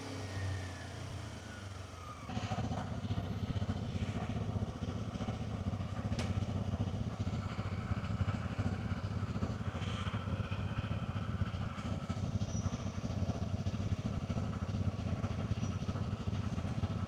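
A Kawasaki Z250 motorcycle engine rumbles steadily for a long stretch, a low constant drone that picks up after a couple of seconds, with traffic noise around it.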